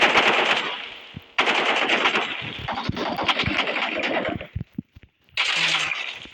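Rapid bursts of automatic gunfire from a video game, loud and close, broken by brief pauses and a few scattered single shots.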